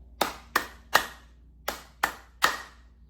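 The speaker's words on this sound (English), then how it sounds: "you're gonna clap it back so you can count and tap with your foot" Hands clapping back a rhythm during ear training practice, six sharp, close claps in an uneven pattern, two quick pairs then a single, repeated, with silence between and no talking.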